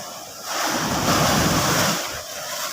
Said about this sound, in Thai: นี่จะเป็นคลื่นทะเลทุกคน